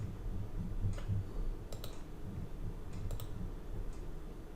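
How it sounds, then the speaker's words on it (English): A computer mouse on a Mac double-clicks twice, each a pair of quick, faint clicks, against a low steady background hum. "Double click on it and it'll say open."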